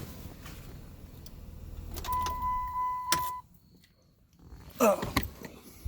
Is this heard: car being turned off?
yes